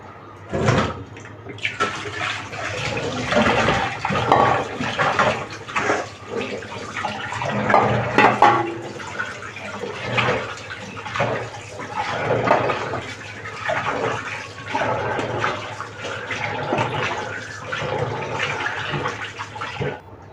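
Tap water runs steadily while cut fish is rinsed at home for a Bengali lote fish recipe, a continuous splashing gush with uneven clatter and swells of water hitting the fish and bowl throughout.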